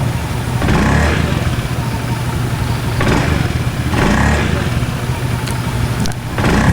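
A Honda Zoomer X scooter engine, just back from a CVT repair, revs repeatedly, surging and easing in a steady rhythm of throttle bursts about every second and a half, close and fairly loud.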